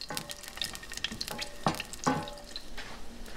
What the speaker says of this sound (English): I'm gonna let that saute for a minute and get a little bit brown, but we don't want them to burn.